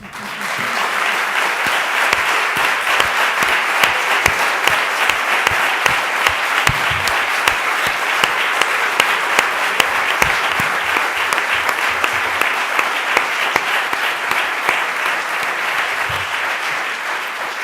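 A seated audience at a talk on women film directors in Pamplona breaks into sustained, loud applause, dense rapid clapping with crisp individual hand strikes, continuing steadily without a break for well over fifteen seconds.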